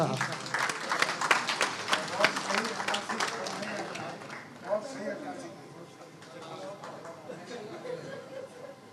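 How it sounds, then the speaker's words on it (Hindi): An audience at an honors ceremony claps in dense applause that is loud at first, then thins out while a voice speaks over the fading claps. "आप सबकी पुरजोश तालियों में तशरीफ लाते हैं, हाफिज मोहम्मद शबीर साहब।"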